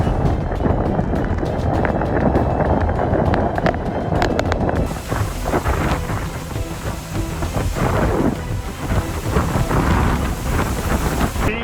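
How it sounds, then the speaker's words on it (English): Category 2 Hurricane Francine making landfall in Louisiana, with 100 mph winds and heavy rain lashing New Orleans: a loud, unbroken roar of gusting wind and pounding rain, with low rumbling surges throughout. "Hurricane Francine has just made landfall in Louisiana."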